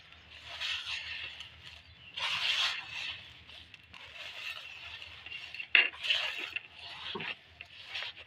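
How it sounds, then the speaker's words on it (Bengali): Chhena (cottage cheese) mixed with milk powder is kneaded by hand for pantua sweets, making quiet rubbing and pressing strokes in uneven bursts, with an occasional faint clink of a dish. "ছানাটা ভালো করে মেখে নিয়েছি"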